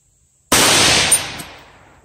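A Davidson Defense 6.5 Grendel rifle with an 18-inch upper fires a single loud, close shot after silence, followed by a long decaying echo across open ground.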